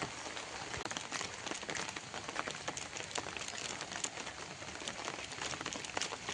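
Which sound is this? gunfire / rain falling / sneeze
rain falling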